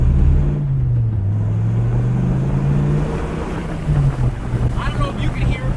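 A 1994 Dodge Viper RT10 with the top open, its engine a deep, steady drone under heavy wind buffeting, pitch dipping and then rising again as it cruises.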